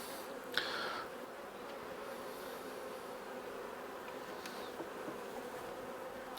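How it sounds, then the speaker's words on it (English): A honeybee swarm hums steadily inside a crowded nuc box, the calm, dense buzz running continuously at close range with a brief louder swell near the start and no voices. "The bees seem fairly calm."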